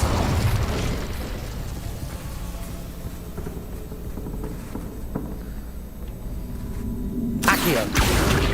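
Spell effects from a Harry Potter video game, with the Incendio fire spell ending in a loud, bright whooshing burst near the end after a stretch of dense, noisy game ambience; no clear talking.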